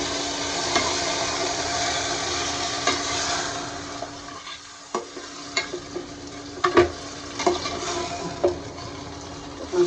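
Marinated meat for biryani frying in a pot while being stirred, a steady sizzle broken by a brief lull, then sharp scraping clinks of the spoon against the pan growing more frequent toward the end.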